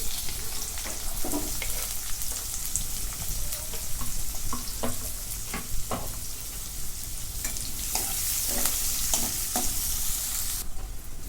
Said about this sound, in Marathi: आता कांदा पण गुलाबी रंगापर्यंत मी भाजून घेतला